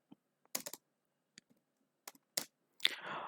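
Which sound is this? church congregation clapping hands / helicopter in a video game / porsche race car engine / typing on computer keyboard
typing on computer keyboard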